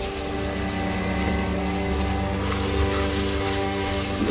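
Minced meat keema with fresh green coriander frying in a pan over lowered heat, a loud, steady, continuous sizzle and crackle throughout, close and with no talk.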